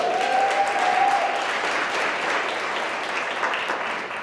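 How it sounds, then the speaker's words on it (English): A crowd at a women's breakfast event claps for the speakers, a steady, fairly loud spread of many hands clapping with no voices over it. "Can I get one more round of applause for our speakers today?"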